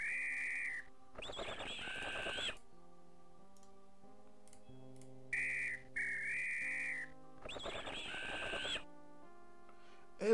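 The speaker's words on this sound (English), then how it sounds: "I thought that was a way to get off, was to blow the whistle." A whistle in the Return to Zork adventure game blows in three bright, sustained bursts over a low synthesized game score, each toot lasting about a second.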